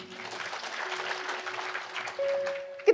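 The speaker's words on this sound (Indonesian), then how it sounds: "Yang setuju berikan tepuk tangan." A crowd claps in a steady, moderate wash of applause, somewhat distant, with a tone sounding near the end.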